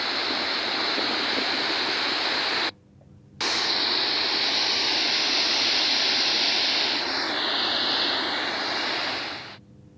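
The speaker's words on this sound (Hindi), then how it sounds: "ताप्ती नदी उफान पर लगातार दिखाई दे रही है।" The Tapti river runs in flood after dam gates were opened, a loud, steady roar of rushing water that fills the scene, broken by one brief cut.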